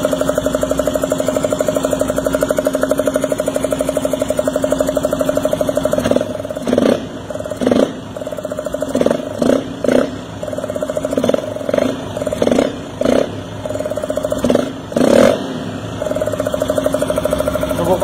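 Yamaha Factor 150 motorcycle engine idling after an oil change, a steady close mid-pitched putter that is interrupted repeatedly by short bursts of other noise in the second half, with no talk.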